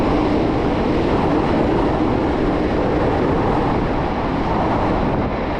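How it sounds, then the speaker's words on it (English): A passing train roars steadily and loudly close by for the whole stretch, a dense continuous rumble in an outdoor street setting. "wait till that train passes"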